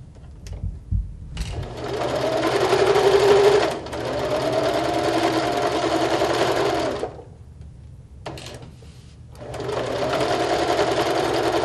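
A sewing machine stitches fabric in long steady runs, pausing briefly as the needle is set down and the fabric is pivoted at a corner before the stitching resumes, loud and close.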